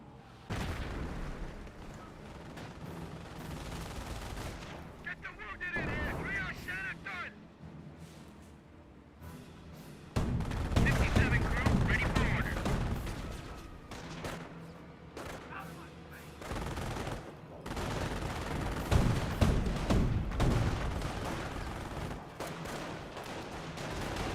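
Sustained bursts of gunfire and booming artillery from a Company of Heroes battle, with sniper shots among them, roll in dense overlapping waves at loud, steady intensity for the whole stretch.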